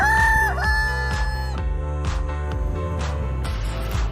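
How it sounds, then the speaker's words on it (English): Cartoon rooster, a big orange cock, crowing loudly and close in a long cock-a-doodle-doo, followed by a few clucks over a steady background music track. "Big size orange color cock."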